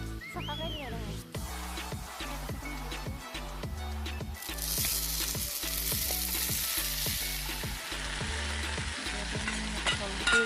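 Chopped taro sizzling and frying in a hot pan, a steady crackling hiss with rhythmic scraping as the pieces are stirred repeatedly, the sizzle growing louder partway through.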